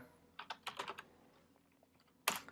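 Code being typed on a computer keyboard, a quick burst of soft key taps, then a pause and a single louder clack, close and quiet, with no voices.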